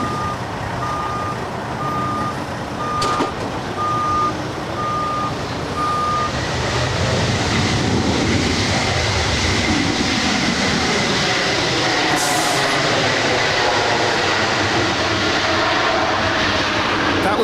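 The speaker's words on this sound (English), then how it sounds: "That was Delta 1371 coming in from Sacramento. It's a 3-year-old Airbus A220-100." A Delta Airbus A220-100 landing at LAX, heard as a loud, sustained jet roar building and sweeping past, with a repeating electronic beep tone in the first few seconds.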